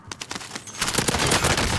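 Rapid bursts of automatic gunfire in a Warzone video game firefight, starting as spaced shots and building into a loud, dense, continuous volley.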